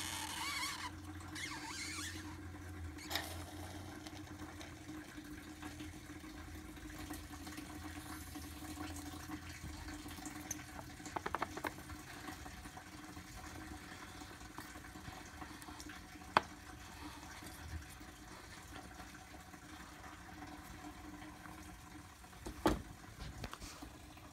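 Coolant runs from the bottom drain of a 7.3 PowerStroke diesel as a faint, steady trickle with a few small clicks and knocks over a low background hum.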